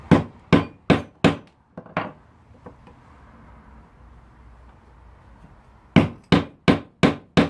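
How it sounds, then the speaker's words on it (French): Sharp hammer blows on a wood chisel cutting wood, four quick strikes, a pause with faint scraping, then five more evenly spaced strikes, close and loud. "après je prends un ciseau à bois, un marteau"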